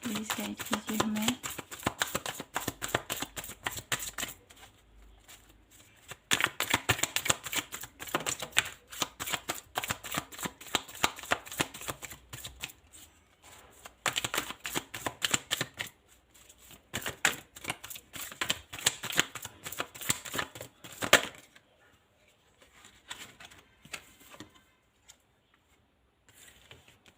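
Tarot cards being shuffled by hand for a reading: bursts of rapid, papery riffling clicks that come and go in several runs with short pauses, close up, over faint background noise.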